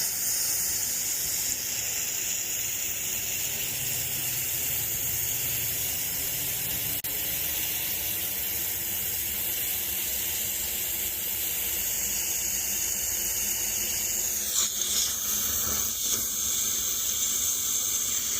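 Water rushes through a pool hose with a steady, faint hiss and gush throughout, a thin high airy wash with slight shifts near the end.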